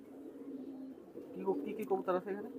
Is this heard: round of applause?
no